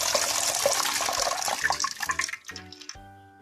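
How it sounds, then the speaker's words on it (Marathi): Coconut paste wrapped in a thin cloth is squeezed over a pot, and the milk runs out in a watery stream that breaks into irregular drips and splashes before dying away. "आणि पिळून दूध काढून घेऊ।"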